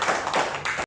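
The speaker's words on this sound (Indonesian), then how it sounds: "Boleh berikan tepuk tangan yang paling meriah untuk Ibu Yesi." Brief burst of audience clapping at a BPJS Kesehatan public information event in Makassar, quick overlapping claps lasting under a second before cutting off.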